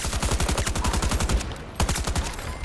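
Rapid automatic gunfire from a Battlefield 2042 match, a dense burst of loud close shots for about a second and a half, a short pause, then another volley of quick, sharp reports.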